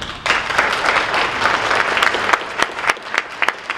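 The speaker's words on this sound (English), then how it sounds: "So let's hear applause for the Public Library app." A conference audience at a GIS event bursts into applause, dense clapping from many hands that starts abruptly and thins to a few scattered claps by the end.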